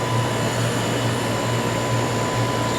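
A 2005 American Standard Allegiance 11 outdoor air conditioner, around a 3-ton unit, runs steadily close by with a constant fan whoosh and a low compressor hum that pulses slightly, with no voices.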